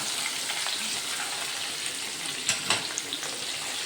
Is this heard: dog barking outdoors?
no